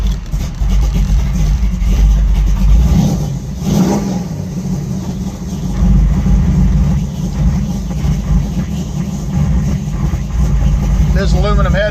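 A 1953 Ford F100 pickup with an aluminum-headed engine runs loudly and steadily up close, its rumbling idle swelling into revs and settling back, continuous throughout.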